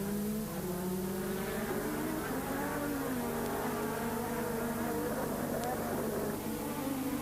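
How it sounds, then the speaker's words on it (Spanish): Formula 1 race cars of the 1986 season at over 250 km/h, a steady high-pitched engine drone with shifting pitch, heard under continuous commentary. "Los monoplazas van a más de 250 km por hora."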